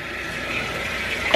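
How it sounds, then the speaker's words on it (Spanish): Hot water pours steadily onto a spider in a house, a continuous close splashing hiss with no voices. "Le estoy echando agua caliente."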